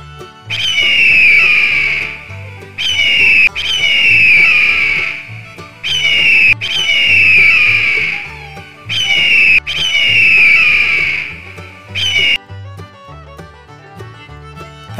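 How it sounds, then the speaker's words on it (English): An eagle gives long, piercing whistled calls, five or six shrill cries each lasting a second or two, loud and close, over a low musical backing. "Eagle."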